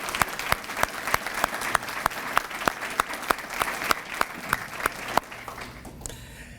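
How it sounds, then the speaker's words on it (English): An audience at an annual awards ceremony claps steadily in an even, rhythmic beat, the claps loud and close, before the applause fades out near the end. "So a round of applause for these individuals."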